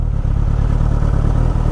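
A 2016 Suzuki GSX-S 1000 motorcycle engine throbs close and steadily in a brief burst, a rapid pulsing beat with no voices.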